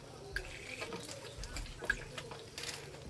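Water from a hose arriving and splashing outdoors, a soft uneven trickle with scattered drips and small splashes, fairly close and quiet, with no talking.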